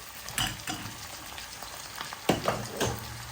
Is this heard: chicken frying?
yes